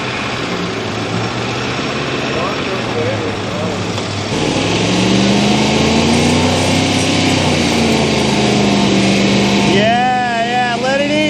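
A Ford F150 truck engine revs in gear, a steady drone rising in pitch and holding loud and close, with a raised voice partly over it near the end.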